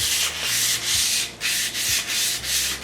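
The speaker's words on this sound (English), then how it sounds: "Now we're going to go over it with some sandpaper." Sandpaper rubs lengthwise along a rusty Brno Model 2 rifle barrel in steady back-and-forth strokes, about two per second, close and fairly loud with no talking.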